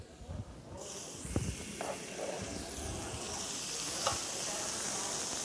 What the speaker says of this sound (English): Yep, I hear a sizzle.